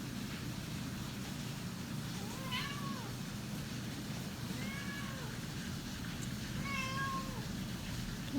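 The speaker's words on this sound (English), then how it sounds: "Can you hear my cat Isadora meowing?" A pet cat meows three times, faint and somewhat distant, each a short rising-falling cry a couple of seconds apart, over a quiet indoor background of low rumble.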